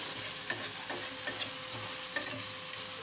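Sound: frying ingredients in a pan for doi rui fish curry

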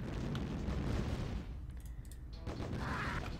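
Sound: gun turret firing at an ORCA in Command & Conquer video game

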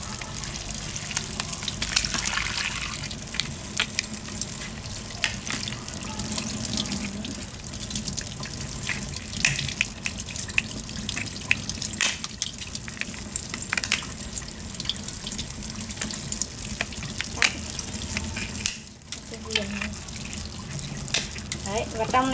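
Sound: rinsing meat under running tap water

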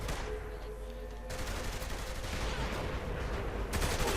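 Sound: gunfire emptying a magazine in video game Saints Row: The Third

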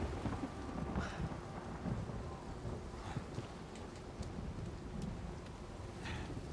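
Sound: rain and thunder in the video game Uncharted 4

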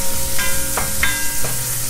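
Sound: food frying in a pan

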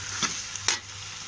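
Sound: tomatoes sautéing in a pan for stingray curry

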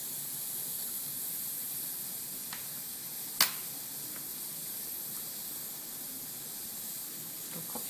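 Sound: steam hissing from Stellar Passione moka pot

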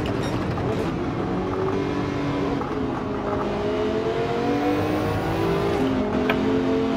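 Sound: race car engine accelerating in Gran Turismo 7 video game

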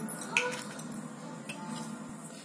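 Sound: cracking an egg

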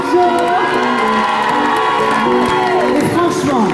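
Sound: concert crowd cheering and applauding

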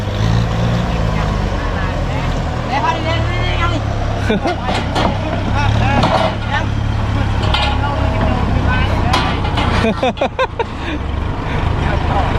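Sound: Kubota tractor engine

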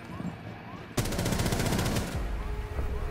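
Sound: gunfire from a hip-fired gun in a video game

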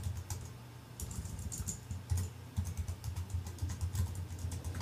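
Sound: typing a password on a computer keyboard

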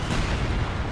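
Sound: artillery barrage in the video game Company of Heroes 2

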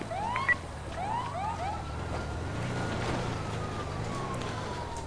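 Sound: police car sirens in GTA 5 video game

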